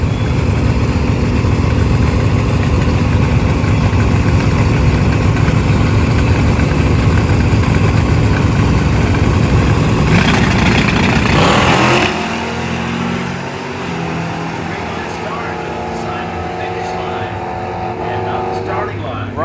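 Drag racing cars at Xtreme Raceway Park bracket racing, one a Camaro, a loud close engine roar that drops abruptly to a lower rumbling idle partway through, with voices mixed in.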